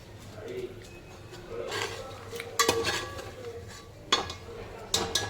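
Dry grated coconut roasts over a low flame in a pan, a spoon scraping and stirring with soft clinks and a few sharper metallic knocks, close and fairly quiet.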